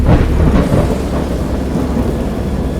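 Loud thunderstorm in a Lovecraftian horror game, with heavy rain pouring and deep rolling thunder booming close by, continuous and without voices.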